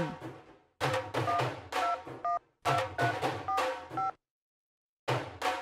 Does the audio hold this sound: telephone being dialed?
yes